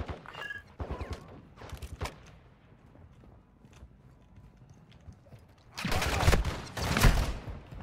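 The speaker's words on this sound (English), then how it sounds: "You are taking effective fire." Video game gunfire crackles in a few short bursts at moderate distance, then a louder, denser volley of shots near the end.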